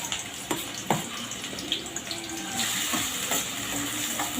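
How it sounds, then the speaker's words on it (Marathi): Chopped onion dropped into hot oil and frying, a watery hiss with irregular crackles and stirring knocks that rises to a denser sizzle midway. "आता तेल छान गरम झाले आहे। आपण यामध्ये कांदा घालून घेऊ।"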